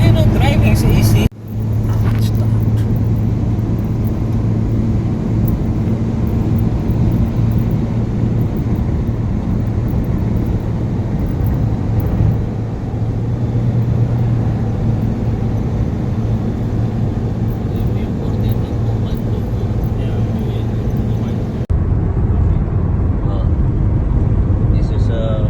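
A car drives along a road with a steady engine drone and road rumble heard from inside the cabin, continuous for most of the time before a sudden drop near the end, while people talk.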